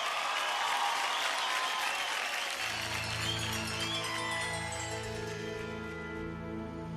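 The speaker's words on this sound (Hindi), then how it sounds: "एक बार फिर से जोरदार तालियां हो जाए" A TV show studio audience gives dense, sustained applause that stays steady throughout, while music with a sustained tone rises underneath partway through.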